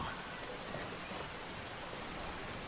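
Steady rain falling in Skyrim, a continuous even hiss of drops across the whole stretch, with no talk and no thunder.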